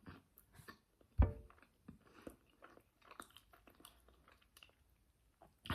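Someone chews and bites into a baked food while tasting it, with a soft crunch near the start and then quieter, intermittent mouth sounds close to the mic.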